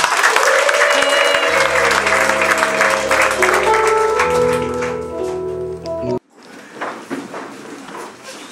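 A church congregation at a wedding breaks into loud applause mixed with high, sustained ululating cries that waver over the clapping. The ululation ends suddenly and quieter scattered clapping and crowd noise follow.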